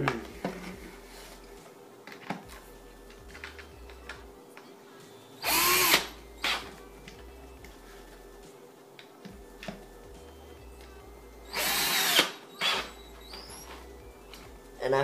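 A power drill tightens skateboard hardware in two short, loud whirring bursts, separated by quieter handling clicks and shuffling.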